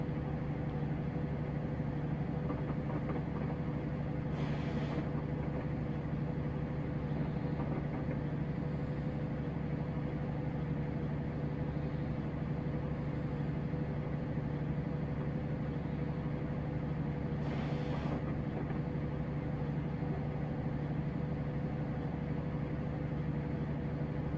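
Class 58 diesel locomotive engine in Train Simulator Classic, a steady heavy low rumble churning continuously throughout, with two brief faint hiss bursts partway through and no talking.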